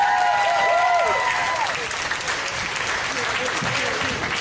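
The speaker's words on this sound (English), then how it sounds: "So let's give them a big round of applause." Crowd applause at the Superman Celebration in Metropolis, Illinois: loud, continuous clapping filling the whole stretch, with a voice speaking briefly over it near the start.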